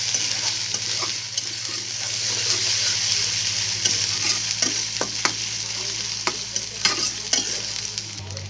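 Coriander powder and other ground spices frying in hot oil, a steady close sizzle with scattered crackles and spatula scrapes, alone with no voices, plus a low constant hum underneath.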